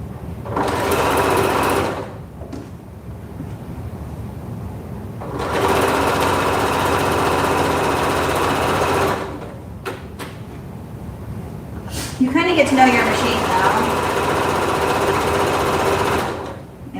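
A sewing machine stitches in three steady runs, with quiet gaps between them, at close range. Each run is a loud, even mechanical whir, and there is no talking.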